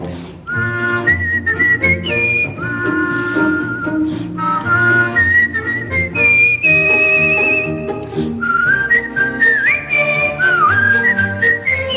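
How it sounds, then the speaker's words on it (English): Voices whistle a bright, tuneful melody in a Broadway musical number, the whistled line rising and falling over the orchestra's accompaniment without singing. "They whistle."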